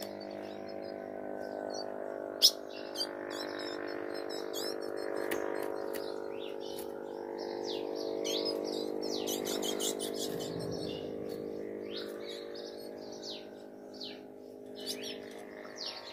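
Female azulão (blue-black grosbeak) in an aviary giving short, sharp chirps scattered over a soft continuous hum, the calls faint to moderate and irregular, with no voices.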